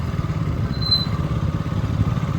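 Several motorcycles riding over a bumpy up-and-down dirt road, a low continuous engine rumble with rattling and clatter from the rough surface, steady and moderately loud with no voices.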